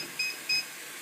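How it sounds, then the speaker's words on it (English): A kitchen timer gives two short, high electronic beeps about a third of a second apart as it is set, clear and alone against a quiet room. "Set the timer for 3 minutes."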